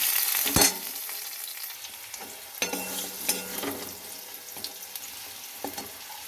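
Fried potatoes and green chilies go into a pan of fish curry, sizzling steadily under a few scraping stirs and knocks, close and moderately loud, with no talk.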